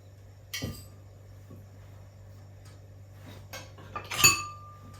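Sauerkraut with linseed oil stirred in a bowl, giving a few sparse clinks and scrapes of a utensil against the dish, close and fairly quiet, with one brighter clink near the end over a low steady hum.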